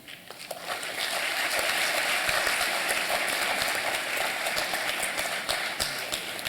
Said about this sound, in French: Merci de l'accompagner de vos applaudissements jusqu'à son siège.